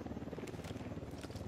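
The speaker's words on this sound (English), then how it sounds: "I got the helicopter." A helicopter in the video game Ghost Recon Wildlands, its rotor thudding in a fast, steady beat, fairly close and moderately loud, with faint voices briefly under it.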